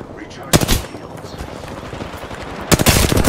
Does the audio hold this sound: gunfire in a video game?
yes